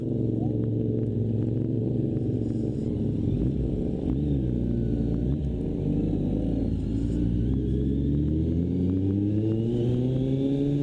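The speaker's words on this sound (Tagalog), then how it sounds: "Inaantay ko nga lang humarurot yung Raider." Yamaha Raider motorcycle engine revving hard nearby, a loud continuous rumble with rising and falling rev sweeps across the whole stretch, no pauses.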